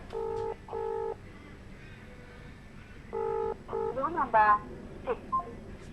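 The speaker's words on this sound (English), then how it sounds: "I might actually ring my mate right now" Touch-tone phone keypad beeps as a number is dialed, a few separate bursts of tones followed by ringback chirps, moderately loud over faint room background with no one answering.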